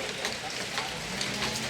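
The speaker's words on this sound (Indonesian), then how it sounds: "Hujan kawan." Rain falls steadily in a dense, even hiss during a motorcycle tour near Naringgul, close and continuous with faint talk underneath.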